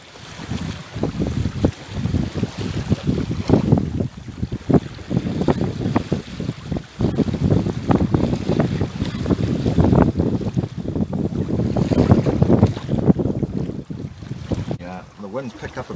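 Strong offshore wind buffets a small sailboat at sea. Gusty, rumbling microphone wind noise mixes with water sloshing against the hull, and someone speaks intermittently over it.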